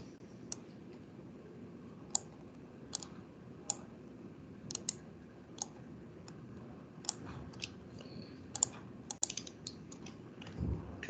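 Sharp, sparse clicks from a computer mouse pressing on-screen buttons in CAD software, irregularly spaced over a faint steady hum, with no talking.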